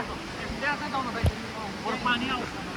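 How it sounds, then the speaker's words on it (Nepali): A waterfall pours down in the rain at Everland in Korea, giving a constant broad rush of falling water, with voices talking close by over the top. "यहाँनिर यो झरीमा चाहिँ ल यस्तो झर्ना आइरहेछ"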